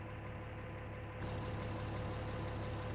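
A tractor engine in Farming Simulator 19 idles as a low, steady, fairly quiet hum with no speech over it.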